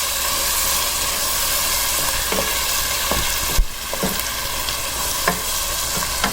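Chicken curry masala stirred in a frying pan, a steady close sizzle with scraping spoon strokes against the pan at irregular intervals, no voices.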